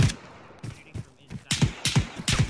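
Close, loud gunshots in Arma 3, sharp repeated cracks spaced irregularly across the moment, with several in quick succession toward the end and no talk over them.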